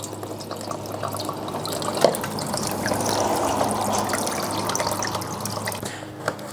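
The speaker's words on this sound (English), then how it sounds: "I'm just gonna flush out any remainder stuff that's in there with just some water" Water runs and trickles steadily through an emptied Honda Civic EG hatchback washer fluid reservoir as it is flushed out, with a few brief drips and knocks. The sound is close and fairly even for the whole stretch, with no talking.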